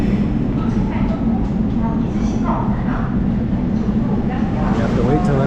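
Steady, loud rumble and rattle inside an underground Seoul subway metro train, continuous throughout with faint murmuring voices in the background.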